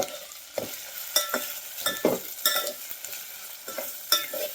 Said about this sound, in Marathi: लसूण आल्याची पेस्ट भाजल्यानंतर आपल्याला यामध्ये ही थोडीशी चिरलेली कोथिंबीर घालायची आहे.